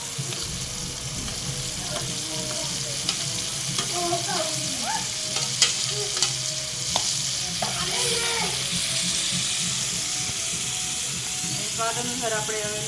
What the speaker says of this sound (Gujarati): તો હવે આપણા કાંદા અને ટમેટા ને એવું તળી લઈએ છે.